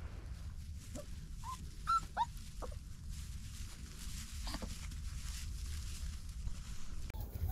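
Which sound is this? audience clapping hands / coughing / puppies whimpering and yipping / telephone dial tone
puppies whimpering and yipping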